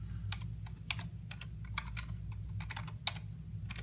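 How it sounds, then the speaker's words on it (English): Keystrokes on a computer keyboard while setting up a Topcon auto phoropter: quick irregular clicks in short bursts, close by, over a steady low hum, with no talking. "I'm trying to type at the same time"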